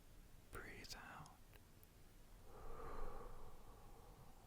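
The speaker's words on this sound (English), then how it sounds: "Breathe out." A slow, soft exhale close to the microphone in an intimate setting, with a faint breathy hiss near the start and a longer airy breath swelling later, very quiet and without spoken words.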